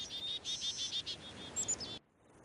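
A chirping creature in the Riven video game gives a rapid, rhythmic series of high, trilling calls that repeat steadily for about two seconds and then cut off abruptly.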